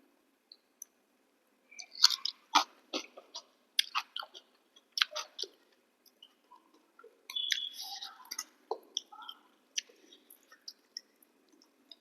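Close, quiet chewing and crunchy bites at a home meal of Bengali fish curry with catla and eggplant, prawns with pumpkin greens and poppy seed. Soft wet mouth sounds come in irregular bursts with pauses and no talk.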